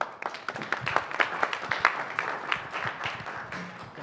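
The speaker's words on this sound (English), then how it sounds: "From the round of applause." An audience at a policy debate applauds with scattered, uneven clapping that is moderately quiet and fades toward the end.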